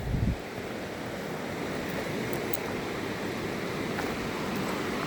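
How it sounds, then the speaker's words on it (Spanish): Rough, fast river in natural surroundings, a dense, constant rushing roar of water with some wind buffeting the microphone, steady throughout with no voices. "Este sí está bravo, el río."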